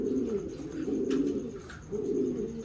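Racing pigeon cooing close by, two soft low throaty coos with a short pause between them, no talk over it.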